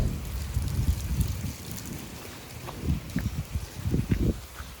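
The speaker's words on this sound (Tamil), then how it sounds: "காற்று மழையும் இருக்கிறதுனால" Gusty wind and rain buffet a microphone outdoors, a rough continuous roar with irregular low thumps and spatters swelling and easing throughout.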